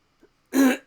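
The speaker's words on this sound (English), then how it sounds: "Sorry about clearing my throat there." One short, close throat clearing from a lone man, a gruff rasp lasting under half a second in an otherwise quiet room.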